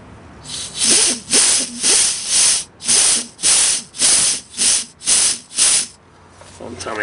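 Compressed air hisses in repeated short bursts through a transmission valve body solenoid, about nine loud, close blasts in a steady rhythm, each starting and stopping sharply, with brief pauses between.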